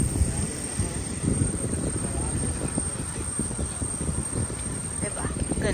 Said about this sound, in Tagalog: Aeroplano.